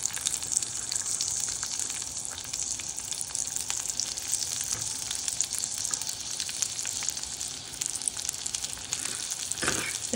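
Small onions go into hot oil in a pan for a tin fish curry, setting off a dense, loud, continuous sizzle that holds for the whole stretch, near and unbroken by speech.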